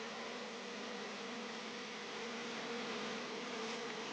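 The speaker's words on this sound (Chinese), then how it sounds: "发现了大量出入的蜜蜂。" Honeybees from a nest in a rock crevice in Guangxi buzz in a dense, steady swarm drone that holds unbroken and close throughout, with no voices.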